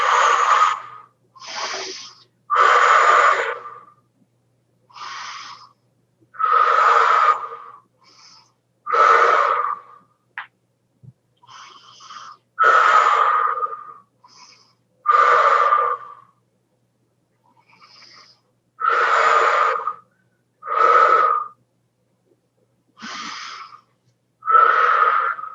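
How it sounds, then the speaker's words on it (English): A person takes slow, deep breaths in and out, loud and close to the microphone, each breath a long airy rush followed by a pause, repeated in an even rhythm about a dozen times with silence between. "Breathe in, breathe out."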